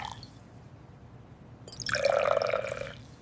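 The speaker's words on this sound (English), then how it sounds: "I pour lemonade from the glass pitcher." Lemonade pouring from a glass pitcher into a cup, a short bright splashing pour that swells in after a quiet start and then tapers off, close and alone.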